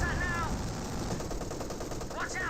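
Rapid bursts of MG34 machine-gun fire rattle through a Company of Heroes 2 battle, dense and continuous under other combat noise, with a commentator talking over it.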